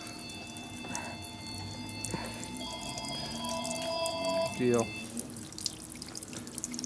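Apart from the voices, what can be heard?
fuel draining from petcock over a motorcycle motor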